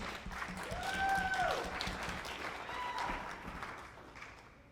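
Moderate applause from an audience welcoming a gaming company CEO back to the stage, swelling then easing, with a whooping voice and whistle-like tones riding above the clapping.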